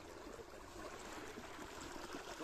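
Water runs from a pipe as a container fills, a faint, steady trickling rush that keeps going without a break.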